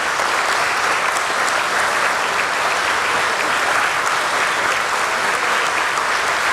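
A crowd claps steadily at the relaunch ceremony for S&P BSE Sensex and Bankex derivatives contracts, loud dense clapping holding level the whole time, with faint voices mixed in.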